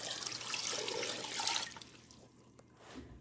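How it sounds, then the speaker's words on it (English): A liter of water is poured into a pressure cooker over beef for yakhni pulao, a steady rushing splash for about a second and a half before fading to faint trickles and drips. "we're going to take a liter of water and we're going to pour that on top of all this"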